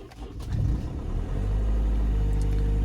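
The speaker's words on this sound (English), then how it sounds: "So I'm gonna turn the car on." A 2008 Mercedes W204 C-Class is started: a short cranking churn gives way to a rising engine note that settles into a loud, steady low idle.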